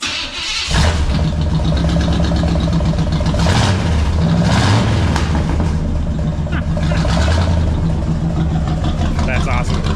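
A 1976 Monte Carlo V8 fitted with new budget exhaust pipes fires up and revs, a loud throaty rumble rising and falling in several blips, with a person talking over it.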